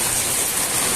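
Rain from the tail of Typhoon Uwan falls in a steady, dense hiss, close and even throughout, with no voices.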